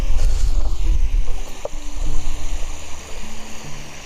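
Sea waves wash steadily beside an outdoor kitchen, a broad continuous rush under light clatter and a few soft knocks, with no voices.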